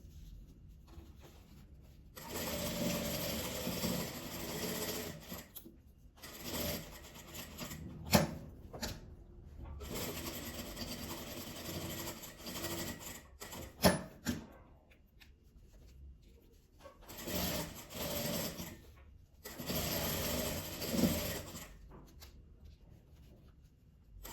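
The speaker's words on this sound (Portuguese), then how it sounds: "Eu vou passar a costura aqui do lado, de um jeito que ele vai ficar preso lá dentro." A sewing machine stitches a patchwork fabric phone holder in steady, whirring runs of several seconds each, broken by short pauses and a few sharp clunks, close and fairly quiet.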